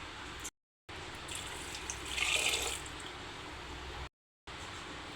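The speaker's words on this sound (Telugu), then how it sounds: "ఇలా పప్పు మునిగే వరకు వాటర్ పోసుకొని స్టవ్ పైన పెట్టుకోవాలి" Water poured into a pressure cooker over soaked chana dal, a faint, soft stream that swells briefly in the middle, with short breaks of silence and no talking.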